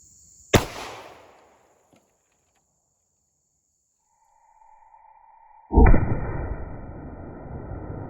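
A .45 ACP Sinter Fire round fired outdoors at a meat target: one sharp, loud gunshot with a quick decaying tail, a quiet pause with a faint tone, then a second loud burst of sustained noise.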